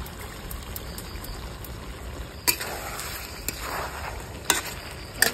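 Whisked yogurt is poured into a hot pan of Hariyali Chicken, making a gentle, wet pouring and frying hiss with a few sharp clinks of a utensil against the pan.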